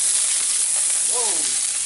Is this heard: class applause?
no